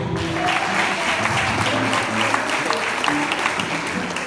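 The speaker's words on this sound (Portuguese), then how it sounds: "Ô glória, aplauda o Senhor." Church congregation clapping during a family worship service, a thick continuous burst of applause with voices and some music-like tones mixed underneath.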